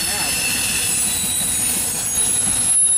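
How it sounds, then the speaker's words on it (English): A train with one engine rolls past on the rails, a steady loud rumble with a high wheel squeal running through it. It is close and constant, with faint voices in the background. "That train went to Berea earlier."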